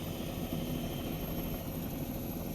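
A helicopter flying over the English countryside along the line of the Fosse Way Roman road, with a steady, dense rotor and engine roar that stays constant throughout and no voices.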